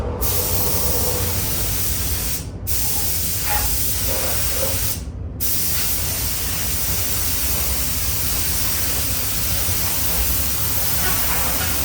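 Spray gun laying a coat of blue paint on a Honda Civic FN2 Type R during a respray, a continuous close hiss broken by two brief pauses between passes.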